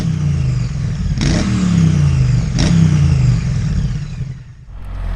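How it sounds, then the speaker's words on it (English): A 2025 BMW R1300RT motorcycle engine revs twice in quick surges, each pitch rising then settling back to a steady, close idle rumble that dips near the end. "the brand new for 2025 BMW R1300 RT"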